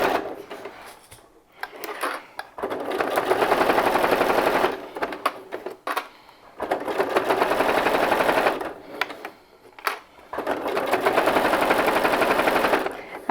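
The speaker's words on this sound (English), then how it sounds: "because your foot and your sewing machine aren't touching that plastic, you should be able to stitch this quite well." A domestic sewing machine stitches along the plastic edge of a zipped pocket in three long steady bursts of rapid needle clatter, separated by short pauses, close and fairly loud.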